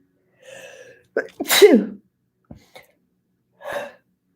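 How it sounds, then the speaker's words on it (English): A single sharp sneeze with a quick inhale before it, close to the listener, followed by a few small breathy sounds and a short exhale. "I was hoping I wasn't going to sneeze again, but I did."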